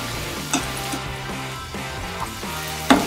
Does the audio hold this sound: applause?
no